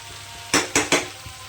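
Potatoes and spices being stir-fried in a pan for Kashmiri aloo dum: three quick sizzling scrapes of a spatula in close succession, then a faint fourth, over a quiet background.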